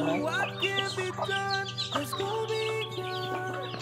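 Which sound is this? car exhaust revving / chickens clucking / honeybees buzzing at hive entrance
chickens clucking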